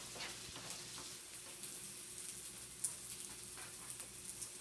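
Bacon frying in a pan for okonomiyaki, a faint, steady sizzle and crackle with occasional small pops, quiet and continuous throughout.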